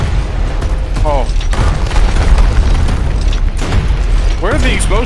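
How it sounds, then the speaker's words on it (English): Explosions in the video game Gears of War Ultimate Edition, a loud sustained boom and rumble with gunfire-like bursts, heavy low-end rolling under the action, with brief voices mixed in. "Where did the explosion go?"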